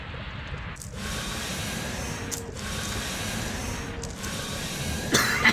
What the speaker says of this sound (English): Oh, that cough hurt.